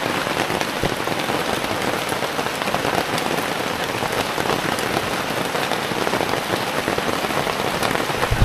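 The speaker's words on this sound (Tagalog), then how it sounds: "hindi pa huminto ang ulan" Heavy rain pours steadily onto surfaces close by in the late afternoon, a dense continuous patter of drops with no break and no voices.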